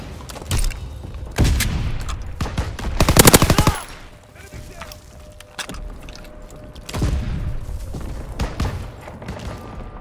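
Anti-aircraft flak guns in a World War II flak tower game, firing close and loud in repeated bursts of rapid pounding shots with short pauses between volleys and a rumbling low end.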